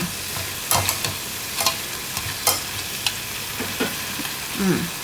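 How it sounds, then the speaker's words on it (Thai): Pork tossed with sesame oil in a pan for a Japanese pork rice bowl, giving soft scraping and stirring sounds with light intermittent sizzling and a few sharper utensil clinks close by. "เราสามารถคลุกเคล้าผสมได้เลยแบบนี้"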